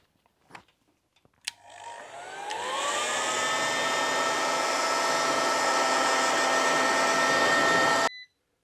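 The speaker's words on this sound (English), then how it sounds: "I have now resoldered the connection and I'm going to heat shrink it" A heat gun blows a steady, loud whooshing roar over heat shrink tubing on a resoldered wiring connection of a Mini pickup's alternator circuit, starting with a few clicks, rising in pitch as it spins up, then cutting off abruptly.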